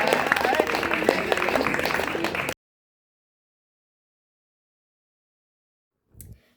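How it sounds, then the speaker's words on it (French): Audience applause at a French school eloquence contest presentation, a dense steady clapping for about two and a half seconds that then cuts off abruptly into silence, with a brief faint noise near the end. "On les applaudit."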